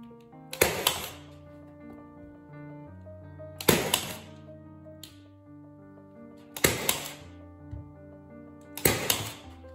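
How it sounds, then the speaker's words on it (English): A nail gun fires into wooden trim on a board for a wall hook shelf, giving four sharp, loud shots spaced a few seconds apart over quiet background music. "now I just attach it with my nail gun."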